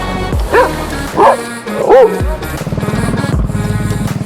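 A dog barks and yips in quick bursts while running alongside a motorbike, close and loud, with the motorbike engine droning and rising beneath and after the barks.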